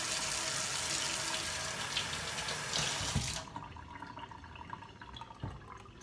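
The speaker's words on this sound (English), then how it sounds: "Always want to wash the fruit, especially now." Fruit is washed under a running kitchen tap, a steady hissing stream that cuts off after about three seconds, leaving faint drips and handling clatter, close and quiet.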